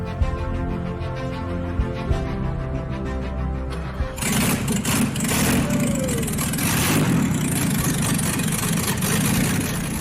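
First-generation BMW M5 engine, a deep, steady idle rumble for about four seconds before louder, broadband mechanical noise and a rev swell take over for the rest of the clip, close and prominent without speech.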